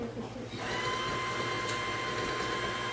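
Electric hand mixer whirring steadily as it beats egg whites to a froth for meringue, starting after a brief pause and running continuously at close range, with a voice speaking over it.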